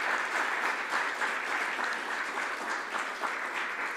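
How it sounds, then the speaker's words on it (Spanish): A church congregation claps together in steady, dense applause that fills the whole stretch at an even level, with no voices standing out. "Así que démosle un aplauso a nuestro Señor."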